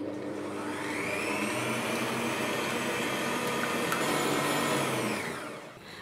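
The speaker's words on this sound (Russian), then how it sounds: "сразу взбиваю одни белки на невысокой скорости. Это третья скорость из 6 возможных." An electric hand mixer running at third of six speeds whips egg whites for meringue, a steady close motor whine with beaters rattling in the bowl that winds down at the end.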